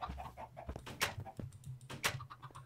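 Minecraft chicken clucking in short repeated bursts with scratchy rustles between them, fairly faint and heard without talk.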